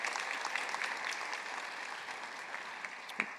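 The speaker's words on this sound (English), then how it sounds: "take a minute and give yourselves a round of applause" Graduates at a mass communication school ceremony applauding, a dense, even wash of clapping from a large crowd at moderate distance, fading slightly over a few seconds.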